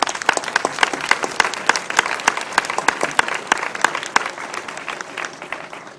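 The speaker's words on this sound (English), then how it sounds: "Please let's give them a round of applause" Audience applause at the grand opening of the Davies Center: a full, sustained round of many hands clapping with crisp individual claps popping out, continuing steadily and easing slightly toward the end.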